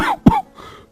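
An old man in a Hindi cartoon coughs once, a short rough burst close up, sitting on a cot, with a voice-like murmur before and after it.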